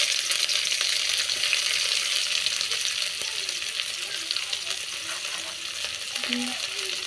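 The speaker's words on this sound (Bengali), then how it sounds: "পেঁয়াজ কুচিগুলো দিয়ে আমি ভাজবো।" Chopped onions fry in hot oil in a kadai after a tempering of nigella seeds and dried red chilli, a constant loud close sizzle with faint stirring and a few soft tones in the background.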